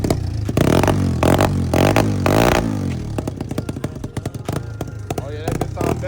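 A 150cc dirt bike engine revs hard in repeated loud bursts up close on its first ride of the year, then settles into a rapid popping idle, with an excited voice talking over it.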